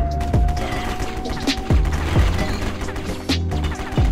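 AR rifle gunfire in the War Brokers shooter game: a string of sharp, loud shots in short irregular bursts, each with a quick ringing tail, over a steady background hum.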